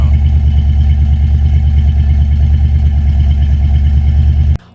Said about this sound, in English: now let's go ahead and listen to the exhaust